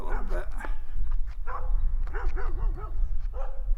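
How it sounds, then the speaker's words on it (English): Several big dogs bark repeatedly at a distance, their deep barks mixed with some whimpering yips, while wind or handling noise rumbles underneath. "those are some big old dogs barking over there"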